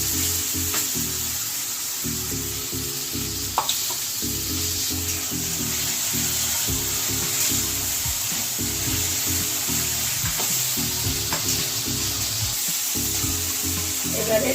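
A turmeric, chili and coriander paste frying in a pan, a steady close sizzle broken by repeated scraping strokes of stirring in an uneven rhythm, with no talk.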